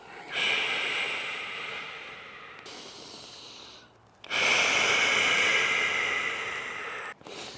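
Slow, heavy breathing during a kneeling upper-back stretch with elbows on a bench, two long, close, airy breaths separated by a brief pause, with no talk.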